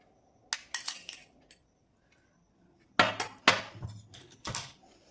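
A spoon clinks against a glass as soaked basil seeds go into a papaya juice drink, two bursts of sharp close taps and scrapes separated by a quiet gap.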